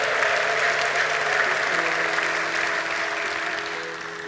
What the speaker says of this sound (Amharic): ለዚህ ጌታ ከፍ ያለ እልልታና ጭብጨባ እንድሰጡ ልጠይቃለሁ።